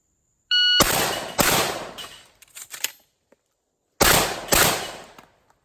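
Rapid competition shotgun shots ring out during a timed shooting run: a quick burst of four loud, close blasts with short echoing tails, a brief pause, then two more fast blasts.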